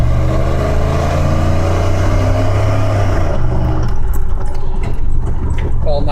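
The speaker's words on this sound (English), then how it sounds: "we'll do a little acceleration and get a view of the speedo and the tack" 1997 Dodge Ram 1500 truck engine accelerating hard, a loud, close, rising drone that drops away partway through, with a person talking over it.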